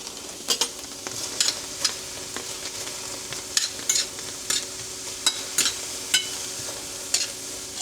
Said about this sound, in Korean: 중불로 양파를 넣고 2분간 볶아 단맛을 냅니다